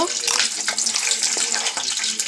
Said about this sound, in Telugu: స్టవ్ మీద ఆయిల్ పెట్టానండి పోపుకి కాగిపోయింది ఆవాలు